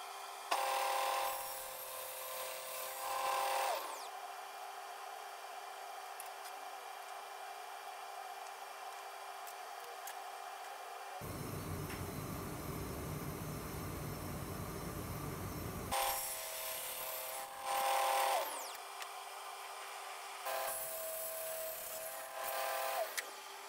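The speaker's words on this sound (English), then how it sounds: "to cut those miters, I used my zero clearance miter sled" A saw cuts wood miters for a coffee table top using a zero clearance miter sled, sounding in several loud whining bursts separated by quieter gaps, with one longer, rougher stretch of cutting in the middle.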